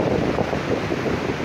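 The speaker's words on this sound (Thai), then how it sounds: "คลื่นแรงมากครับวันนี" Strong waves and wind at Mae Ramphueng beach in Rayong, a dense, steady roar of surf and gusting wind buffeting the microphone, loud and continuous with no voices.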